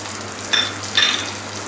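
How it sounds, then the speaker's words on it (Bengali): Nigella seeds and spice paste hit hot oil with fish in the pan, producing two short sizzling bursts close together over a faint steady hum. "মাঝখানে একটু কালো জিরে ফোড়ন দিয়ে দেব। যে মশলাটা বানিয়েছিলাম সেই মশলাটা দিয়ে দেব।"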